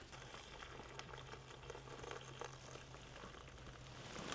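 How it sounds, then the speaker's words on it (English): Boiling water is poured into a dehydrated homemade Thanksgiving field ration bag, giving a steady bubbling, pattering stream that holds at an even, quiet level for several seconds with no talking. "we're adding in 2 cups of boiling water"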